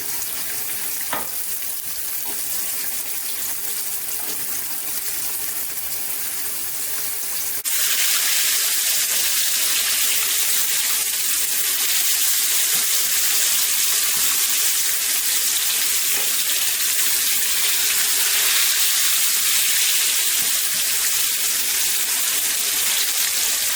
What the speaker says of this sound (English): I'm just putting 4 pieces at a time.